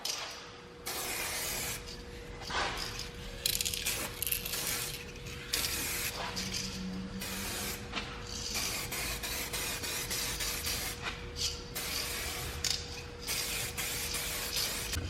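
Spray paint hisses on as a solid coat over Tesla Model Y brake calipers, with repeated bursts and pauses and small mechanical clicks across a long stretch, with no talk.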